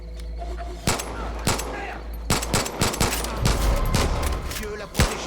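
Rapid bursts of gunfire from the video game Far Cry 5, several sharp shots scattered across the moment over a low rumbling game soundscape, with a voice faintly present underneath.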